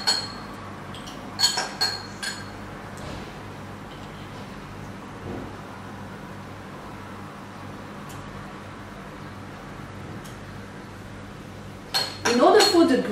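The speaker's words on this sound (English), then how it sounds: "Close the cylinders and mix them very gently." Glass graduated cylinders are closed and gently mixed in a lab, giving a few faint clinks early on and then a quick cluster of bright glassy taps near the end over a low steady room hum.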